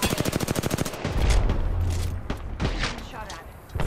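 Apex Legends video game gunfire starts as a rapid, evenly spaced burst of loud automatic shots, then gives way to heavier booms and scattered impacts, with a voice speaking briefly over it.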